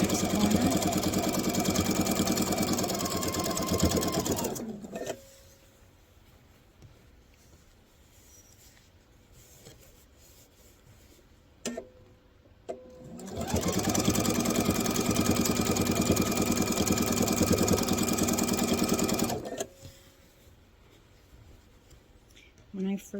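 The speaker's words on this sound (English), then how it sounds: "I'm going to sew until I get to my next corner" A sewing machine stitches binding on a quilted star heart table runner in two loud, steady runs of about five seconds each, split by a long quiet pause with faint handling noises.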